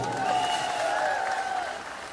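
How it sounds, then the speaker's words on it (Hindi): A crowd at a press conference applauds for Mumbai's protesters, a short, steady burst of clapping with tonal sounds running over it that tapers slightly toward the end. "एक बार मुंबई वालों के लिए तालियां बजा दीजिए।"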